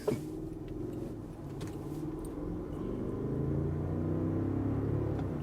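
A 2023 Land Rover Range Rover P530 Autobiography pulls out into traffic, its engine rumble building steadily as it accelerates, heard from inside the cabin with a few light clicks and rattles early on.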